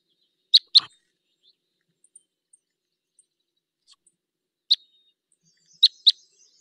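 A recorded finch flight call of type 12, an upsweep followed by a downsweep, repeated as sharp, high chirps in small clusters with quiet gaps between them.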